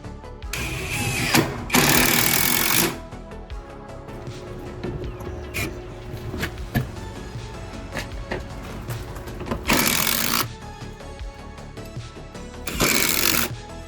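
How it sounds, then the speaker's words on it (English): Screws are driven into a floating shower bench during a bathroom remodel, with a power driver whirring loudly in several bursts of a second or so, separated by quieter handling clicks and knocks. "We'll go ahead and put a couple more screws in it to hold it there."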